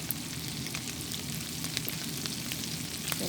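Onions with kasuri methi sautéing in a pan for an egg crumble give a soft, continuous sizzle, fairly quiet and steady throughout, with no voices.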